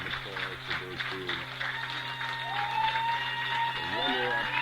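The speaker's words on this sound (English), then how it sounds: "given a well-deserved applause to their team" Fans at an American football championship game, the Belgian Bowl, applaud in a sustained crowd wash, with a voice and a tonal whistle-like sound riding over it.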